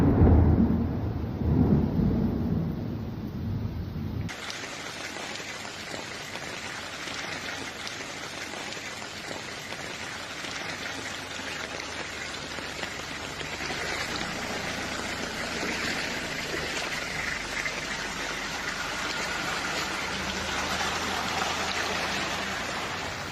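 Heavy rain pours steadily during a thunderstorm in Marseille amid flash flooding, a dense, even hiss of falling water that follows a brief louder rumble at the start.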